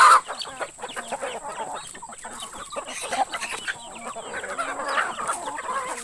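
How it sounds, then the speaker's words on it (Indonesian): Chickens cluck and chatter continuously at moderate distance, with scattered squawks over an outdoor background hum. "Inilah ayam."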